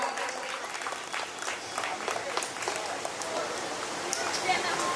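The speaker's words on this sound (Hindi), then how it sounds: "जोरदार तालियां इन बच्चों के लिए" Audience applause for children at a Ramlila festival, steady dense clapping from a crowd filling the whole stretch, fairly loud and close.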